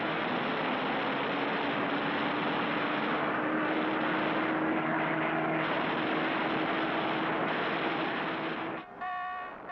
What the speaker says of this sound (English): The American Hellcats fell on the aging Zeros and shot them out of the sky.